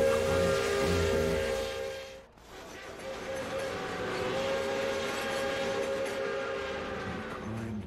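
A train rumbles along the tracks with a rhythmic clatter and tonal whistle-like hum, briefly dipping before the steady rolling resumes.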